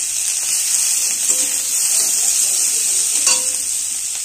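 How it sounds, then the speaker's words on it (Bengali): Chopped onion and green chili frying in oil make a loud, bright, steady sizzle with hissing spatter, close up and unbroken, a few faint stirring knocks beneath and no talking. "পেঁয়াজটা কাঁচা লঙ্কাটা দিয়ে দেবো।"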